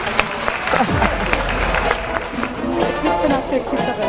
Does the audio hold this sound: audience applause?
yes